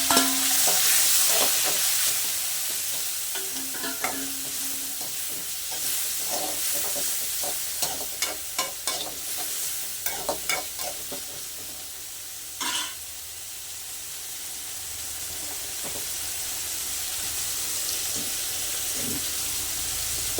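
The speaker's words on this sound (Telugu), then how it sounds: "టమాటా మగ్గుతుంది కదా" Three medium tomatoes fry and stew with browned onions in a pan, giving a steady close sizzle broken by repeated clinks and scrapes of stirring.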